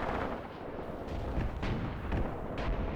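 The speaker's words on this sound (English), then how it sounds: "This is my mortars shooting" Mortars firing in Graviteam Tactics: muffled distant thumps and low booms roll under a steady rumble of battle noise, several dull reports spaced irregularly, faint and far off.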